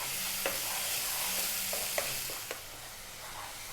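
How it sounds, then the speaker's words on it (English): Tomatoes cooking down with chili, cumin and garam masala for a vegan vegetable curry, sizzling steadily in the pan with a few spoon-stir scrapes and taps, close and without speech. "I really want to get these tomatoes cooked right down."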